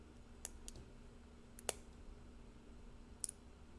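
Tiny, faint clicks of lock pins setting while a U-Haul home padlock is picked, a few sparse separate ticks over a quiet background hum.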